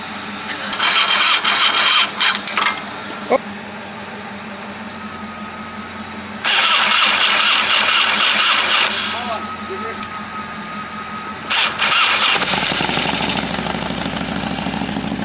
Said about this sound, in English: Fire it up there, Gracie.